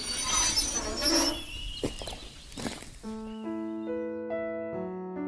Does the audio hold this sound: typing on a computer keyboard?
no